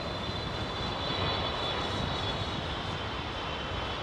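Three F-15 fighter jets from Seymour Johnson arriving at London Heathrow Airport, heard as a loud, steady broadband engine roar that holds without letup throughout.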